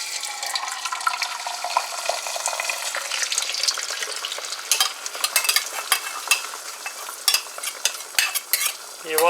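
Eggs hit very hot oil for egg fried rice, bursting into a loud, crackling sizzle that runs steadily, then breaks into sharp spattering pops and scraping near the end, all up close with no talking.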